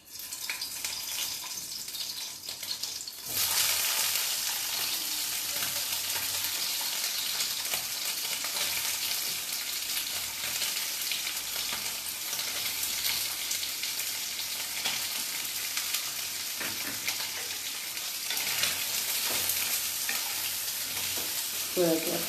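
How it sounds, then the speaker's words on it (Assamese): Soya chunks fry in hot oil in a pan, giving a continuous hissing sizzle that jumps louder after a few seconds, with occasional scraping as they are stirred. No speech is heard. "চয়া চাপখিনি ভালকৈ ভাজি ল'ব লাগিব।"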